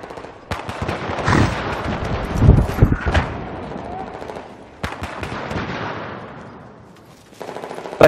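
Video game gunfire on Xbox One rattles in loud bursts of rapid shots, broken by brief pauses, with a final burst at the end.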